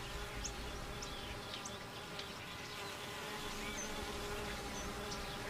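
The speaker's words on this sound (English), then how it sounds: "Worker bees stand guard at the entrance of the hive, keeping out bees from other hives." Honey bees buzz steadily around a hive entrance, a dense, close swarm hum with individual bees darting past, no voices.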